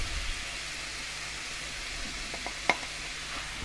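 Onions and pepper sizzle in a pan for a chana saag chickpea curry, a steady close hiss of frying with a single sharp clink from a utensil near the end.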